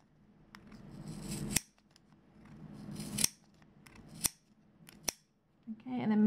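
Small scissors snip yarn around a Clover pom pom maker, several crisp cuts at irregular spacing with quiet rubbing of yarn between them, close and clear.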